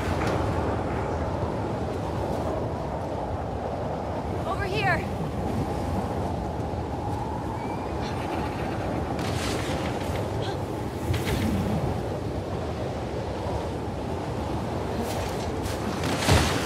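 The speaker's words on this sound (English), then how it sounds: "Windy." Wind gusts through the game world of The Last of Us Part 2, a broad, steady rushing roar with some ambient movement and faint chirps over it, and no speech.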